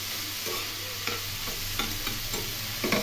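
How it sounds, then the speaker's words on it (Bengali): Chopped ash gourd stir-fries uncovered in a pan over medium flame, a steady close sizzle broken by repeated spatula scrapes and stirring knocks at an uneven rhythm, with no talking. "ঢাকা না দিয়ে মিডিয়াম ফ্লেমে বারবার করে নেড়ে নেড়ে ভেজে নিতে হবে"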